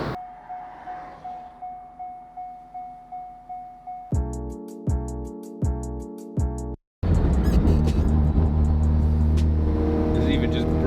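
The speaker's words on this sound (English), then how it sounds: "This is even just brand new cold. It's not even warmed up yet. You can hear that turbo just firing right up." A cold, freshly started turbocharged rotary-engine Corvette rises in repeated short revs that grow in strength, then cuts briefly before breaking into a loud, sustained, rumbling roar close by.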